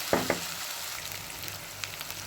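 Chicken pieces frying to golden brown in a pan with onion and chilli, opening with two sharp knocks of a utensil, then a continuous soft sizzle and crackle.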